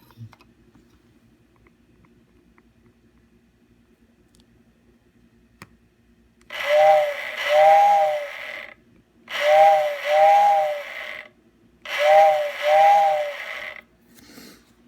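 A Bachmann N scale steam whistle warehouse accessory with a worn motor sounds three repeated two-tone whistle blasts, each roughly two seconds long, separated by short gaps, after faint mechanical ticking.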